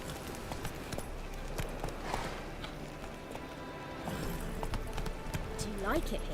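Horse hooves clip-clop in steady rhythm through The Witcher 3, a soft continuous trot under game ambience, with speech heard and a brief horse whinny near the end.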